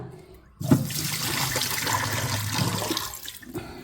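Raw rice being rubbed and washed in water, a steady close splashing and running-water wash that starts abruptly and continues for a few seconds before easing off.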